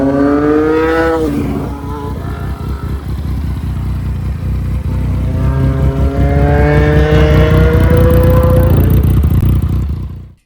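A Yamaha FZ-09 motorcycle makes a loud drive-by, its engine revving hard and rising in pitch, dipping briefly, then roaring past again before cutting off abruptly at the end.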